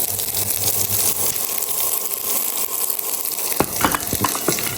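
Mustard seeds, onion, curry leaves and dried chillies frying in oil for a Jaffna stingray varai, giving a loud, steady sizzle with a few crisp spatula scrapes near the end.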